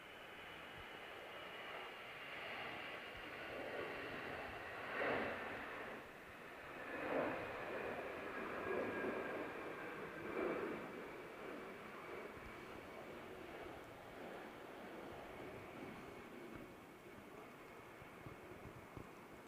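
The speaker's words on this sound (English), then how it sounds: "Our next departure is this EasyJet. It's off to Milan. Hurtling down 2-3 right." An EasyJet airliner bound for Milan takes off down runway 23R at Manchester Airport on a stormy, windy day, its distant jet engine roar swelling and rolling on at moderate loudness and then fading.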